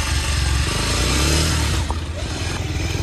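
A borrowed motorbike engine runs steadily close by, its loud continuous rumble holding at an even level throughout, with slight clatter and no speech over it.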